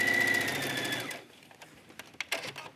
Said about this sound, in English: you can do an understitch right here, and I'll go ahead and do that just so you can see what it looks like